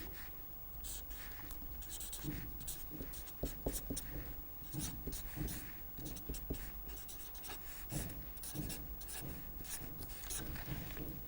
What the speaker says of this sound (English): Let us write that inner product down for ourselves.